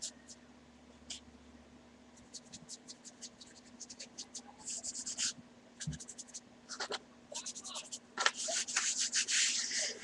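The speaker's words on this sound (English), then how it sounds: "just putting the paint down but then rubbing it with my fingers" Fingers rub paint across a creative journal cover in close, dry, scratchy strokes that come in irregular bursts and build in intensity, over a faint steady hum.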